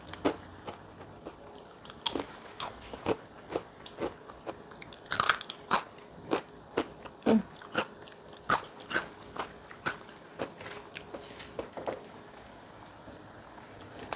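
Crisp peanut peyek crackers bitten and chewed up close, a steady run of sharp crunches at a regular rhythm, with a few louder, crackling bites in the middle and no talking.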